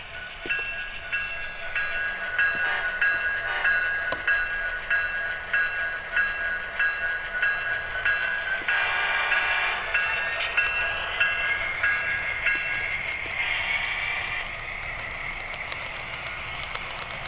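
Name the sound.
model train Genesis SD70ACE locomotive running with sound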